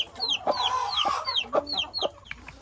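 Native country chickens on a home farm cluck and call nearby, giving short repeated clucks mixed with high, thin downward-sliding cries in a quick uneven rhythm.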